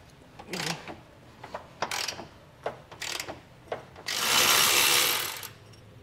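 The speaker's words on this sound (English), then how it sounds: "you might want to grab a ratchet that has a decent amount of leverage to get these loose" Hand ratchet working loose a bolt underneath a vehicle during a rear axle air helper spring install, with bursts of close, rapid metallic clicking separated by pauses, ending in a longer sustained rasp.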